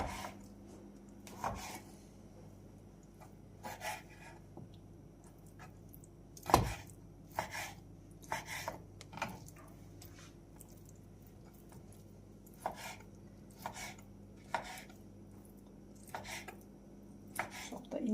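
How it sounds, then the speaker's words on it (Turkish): Intermittent knife chops through meat on a board, irregular and moderately close, with soft squishy cuts between the sharper strikes over a low background hum. "Sıramız ısınana kadar şöyle etlerimizi de doğrayalım."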